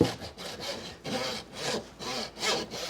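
A hand hacksaw cuts through lamb bone during a whole lamb breakdown, with about four steady rasping back-and-forth strokes, close and fairly loud, with no talking.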